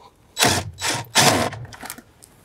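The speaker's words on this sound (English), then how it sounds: "I like to start the screw by hand underneath. And once the thread's in, hit it with our gun." A power screw gun drives a screw into a Jeep Wrangler JK interior panel, giving three strong whirring bursts in quick succession followed by a few fainter short ones, close and without talk.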